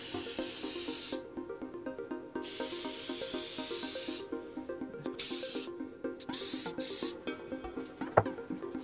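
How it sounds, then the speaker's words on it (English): Hissing bursts of spray finish applied to the underside of a wooden keyboard wrist rest, a few long sprays separated by pauses, with some faint clatter and a tap near the end. "Spray the underside first."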